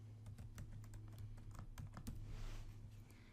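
Quiet, quick keystrokes as a password is typed on a computer keyboard, an irregular run of soft clicks close by with no talk.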